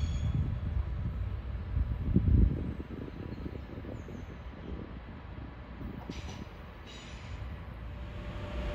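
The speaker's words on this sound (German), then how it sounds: "Dieser Stadler Flirt fährt in die Abstellung." A Stadler Flirt train moves into the sidings at Gießen station, giving a low, steady rumble heard from a distance with some wind buffeting, plus a few faint higher squeals.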